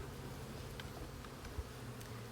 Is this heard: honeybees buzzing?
yes